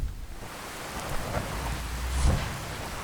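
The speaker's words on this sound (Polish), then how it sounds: "Musi padać." Video-game rain patters steadily close by, and a low thunder rumble swells near the end. No one speaks.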